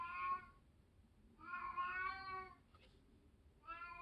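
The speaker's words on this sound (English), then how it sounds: "Don't worry about my cat. He's fine." A house cat meows several times in short, faint calls indoors, with one briefer mew in between and quiet room tone in the gaps.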